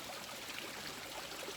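Water from an outdoor waterfall flows in a soft, continuous rushing wash, steady and fairly faint, with no talking over it.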